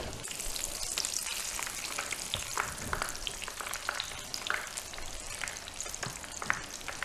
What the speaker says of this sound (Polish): zaczynamy smażyć od 180 stopni